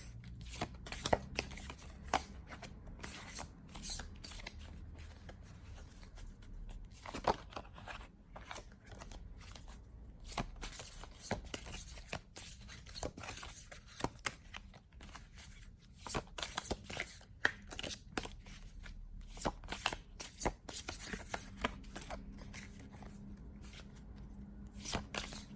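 Tarot cards being shuffled by hand, a dense, continuous run of close crisp riffling and flicking with irregular bursts and no talk.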